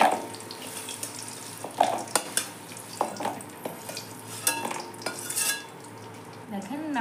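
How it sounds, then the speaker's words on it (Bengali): Wild mushrooms are washed in hot water in a kitchen, with sloshing and trickling water, clinks of a utensil against a bowl or pot, and several louder splashes and rattles scattered over a low background hiss. "দেখেন আমার ছতুটা ভালো করে ধোয়া গেছে, আর এটা গরম জল"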